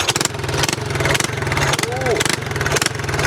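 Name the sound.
Briggs & Stratton engine running on mini trike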